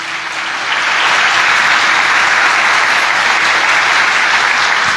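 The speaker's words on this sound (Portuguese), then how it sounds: "pode aplaudir ao Senhor Jesus" A congregation at a live church service breaks into loud, dense applause for Jesus, swelling after the first second and holding steady to the end.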